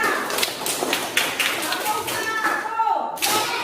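Children in a classroom clap their hands in a ragged, rhythmic burst of many small claps, with kids' voices and chatter mixed throughout and a quieter gap near the end.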